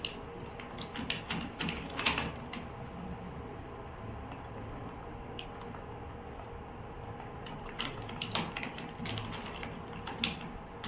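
Keys clatter on an Acer office keyboard in an irregular run of quick, close, plastic taps, with occasional louder strikes over a faint steady hum.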